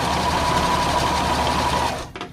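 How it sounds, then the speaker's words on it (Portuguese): Domestic sewing machine stitching a zigzag pattern, a fast steady mechanical whirr running loud and close for about two seconds before stopping abruptly. "Podemos usar a máquina com o ponto reto tradicional ou zigue-zague"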